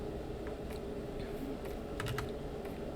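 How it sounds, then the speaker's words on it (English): Close clicks from a loud computer keyboard come in a few scattered keystrokes, then a quicker burst of clacks, over a steady background hum. "yeah, I have a pretty loud keyboard"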